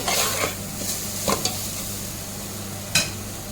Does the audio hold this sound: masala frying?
yes